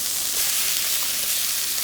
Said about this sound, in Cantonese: 煎香佢，即係啱金黃色